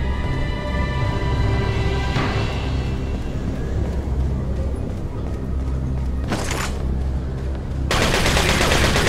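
Gunfire in the video game Resident Evil 4, a steady dense barrage of shots running throughout with a sharper burst near the end, loud and continuous over the game's background sound.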